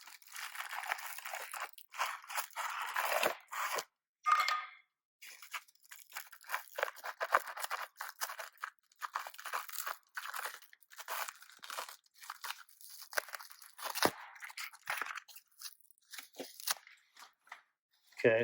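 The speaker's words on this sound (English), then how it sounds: "Okay, I got those foam blocks dug out of there." Foam blocks being dug and pulled out of a concrete tractor ballast, close, irregular crunching and crumbling bursts with short pauses between, fairly quiet overall.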